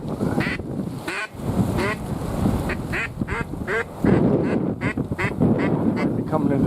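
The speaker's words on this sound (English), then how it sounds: "Those are mallards." Mallard ducks quacking at a decoy spread during a windy Michigan duck hunt, repeated raspy quacks in uneven bursts, fairly close and loud over wind noise.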